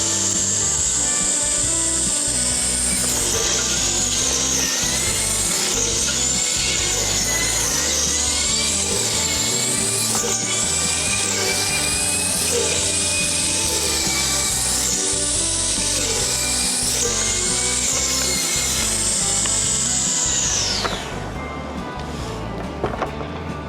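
An electric FEBC24V brush cutter in turbo mode slices through thick, body-high grass and brush with a continuous high whirring buzz and rough rasping, up close for about twenty seconds before the motor winds down.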